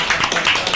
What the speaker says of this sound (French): Les applaudissements dans le studio, magnifique.